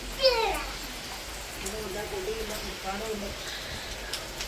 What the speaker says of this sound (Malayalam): മഴ കാണുമ്പോ ഒരു പേടിയില്ലേ